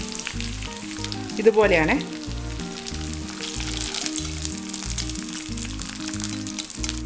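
Chicken pieces for Payyoli chicken fry, a Kerala dish with coconut, crackle and sizzle steadily in hot oil up close. Background music plays throughout, and a brief spoken remark comes near the start.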